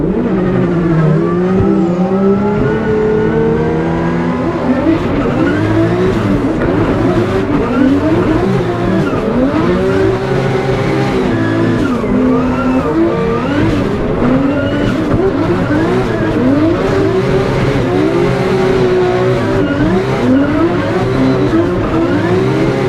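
A drift car at a Drift Masters event driven flat out, its engine roaring and bouncing off the limiter while tires squeal and howl continuously through slides, loud and close for the whole stretch.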